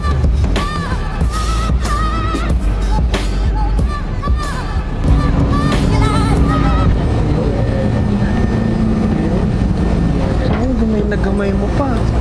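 A light rail train rumbles and hums steadily nearby, with squeaking wheels and a crowd chattering throughout.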